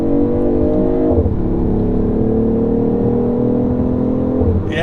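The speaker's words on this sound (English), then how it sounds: "I like the noise that thing makes when you're shifting, too. It sounds very similar to the C8. It's got like a pop in between shifts." A BMW i8 drives along with a steady, loud engine drone and tire-road noise, its pitch dropping sharply twice as it downshifts, with a brief pop between gear changes.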